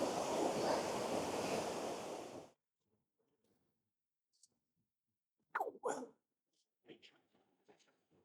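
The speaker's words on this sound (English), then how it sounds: "I can hear a waterfall down here." Waterfall at a spot along the NC500 route, a loud broadband rush of falling water for a couple of seconds before it cuts out, followed by quiet with a few short vocal sounds.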